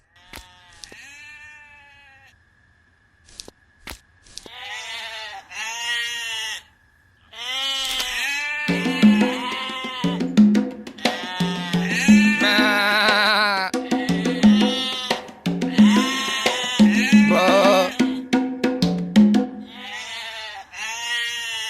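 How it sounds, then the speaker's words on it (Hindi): Goats bleat repeatedly in wavering, nasal cries, a few at first and then a dense overlapping chorus from a nearby herd, loud and close. "जाकर देख तो बकरियां क्यों चिल्ला रही हैं।"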